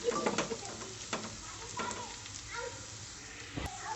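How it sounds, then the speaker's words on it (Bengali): Black pepper and bay leaves fry with onion in hot oil for a spicy beef kosha, giving a steady close sizzle broken by a few sharp stirring scrapes and clinks. "এগুলো একটু পেঁয়াজের সাথে ভালো করে ভেজে নেব"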